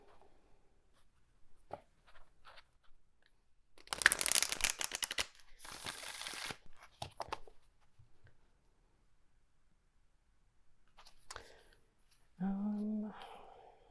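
Tarot cards being shuffled by hand, two short bursts of crisp riffling and shuffling close up amid quiet pauses and light handling noises, with a brief voice near the end.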